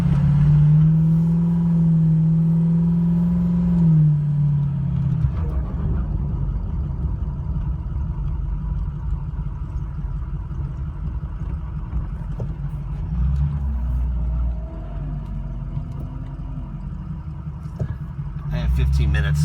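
A truck on BFG tires drives along the road, its engine droning steadily with a rising pitch early on and then a low, even rumble of tires and motor, while someone talks over it.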